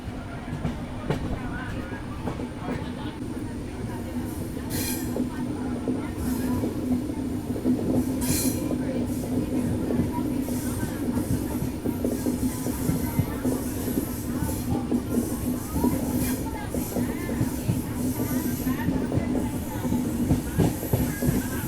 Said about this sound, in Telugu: మన ట్రైన్ అయితే ఇప్పుడు డీప్ కర్వ్ అయితే ఉంటుంది, 90 డిగ్రీస్ కర్వ్ ఉంటుంది.